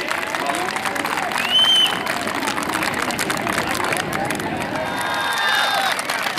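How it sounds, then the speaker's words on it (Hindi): Students and cadets clap and cheer at the opening ceremony of the H.P. University inter-college football championship, a broad, continuous outdoor applause with crowd murmur and occasional whistles mixed in. "आप सब मिलजुल कर अपने आप के लिए एक बार जोरदार तालियां बजा दीजिए।"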